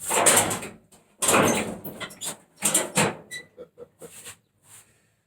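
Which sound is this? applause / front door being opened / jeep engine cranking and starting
front door being opened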